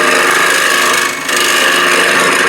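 A round nose scraper works the curved inside of a wooden ladle, giving a steady, loud, continuous scraping rasp with a brief dip in the middle.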